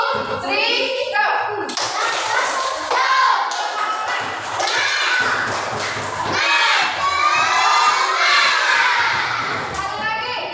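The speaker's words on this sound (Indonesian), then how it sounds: "kita tepuk semangat dulu ya" A group of schoolchildren in a classroom coding lesson perform the 'tepuk semangat' spirit clap, loud chanting and shouting together with bursts of clapping, crowd-like and energetic throughout, with an adult voice at the start.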